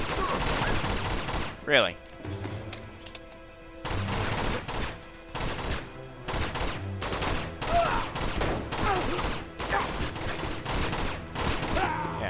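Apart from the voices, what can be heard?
gunfire from blind fire in the video game Uncharted 2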